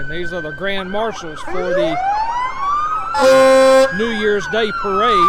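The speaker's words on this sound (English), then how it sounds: "I know it's going to be loud with all these sirens" Sheriff's office vehicles at a New Year's Day parade in Snipesville sound loud wailing and yelping sirens, with sweeping tones and a brief air-horn blast, while an announcer speaks over the PA.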